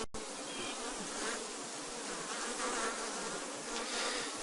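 Honey bees buzz around hives in a dense, continuous outdoor hum of many insects, steady and close with no talk.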